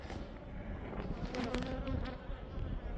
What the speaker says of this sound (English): Lots of good bees on here.